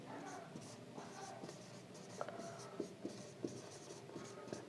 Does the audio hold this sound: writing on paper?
yes